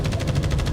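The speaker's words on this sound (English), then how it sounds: "gunfire." Rapid bursts of automatic gunfire in the video game The First Descendant, with a steady, pulsing rhythm, loud and close, no voices over it.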